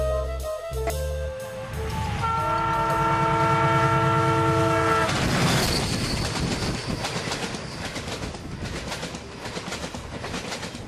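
The Ispat Express pulls out of Howrah station with a long sustained horn blast, then a steady rumble and rhythmic clatter of wheels on rails that grows loud and gradually eases, heard alone without talk.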